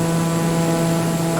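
Super fast airplane climbing near Mt Rainier in Microsoft Flight Simulator 2020, a loud, steady engine drone with a strong tonal hum, heard close and alone without talk.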